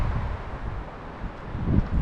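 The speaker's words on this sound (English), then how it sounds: "I don't know if you can hear that wind" Outdoor wind buffets a microphone at a solar panel installation site, a low rumbling roar that rises and falls in gusts for the whole stretch.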